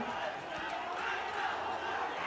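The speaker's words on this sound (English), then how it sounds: "But the crowd now getting behind the Zahirians, giving them that impetus, giving them that extra energy" Rugby crowd at a Trinity College versus Zahira College schools semi-final roaring and cheering for Zahira, a steady broad wash of voices that fills the whole moment with no single standout shout.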